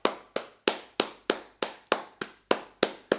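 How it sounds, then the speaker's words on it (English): Sharp, evenly spaced claps sound close and loud, about ten in just over three seconds, a single person keeping a steady rhythm rather than a crowd. "round of applause, round of applause."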